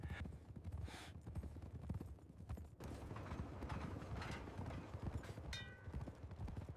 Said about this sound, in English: 3 riders broke formation and spurred their horses faster, racing ahead of the train.